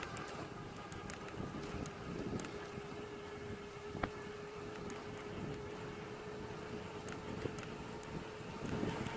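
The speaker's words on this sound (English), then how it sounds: "So it is actually a very strong headwind at the moment" Strong headwind buffeting the microphone while riding an eBike fitted with a 350W Yose Power conversion kit, a steady broadband roar of rushing air across the whole stretch with no speech.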